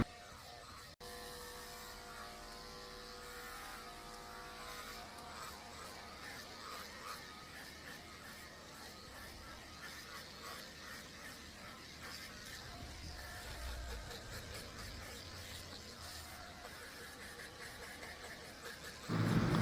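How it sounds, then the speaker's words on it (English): Electric clippers with a number 10 blade shave down a senior toy poodle's coat, a steady close buzzing hum running continuously without pause. "I have to shave her down to get this hair off or she'll never get clean and she'll never dry"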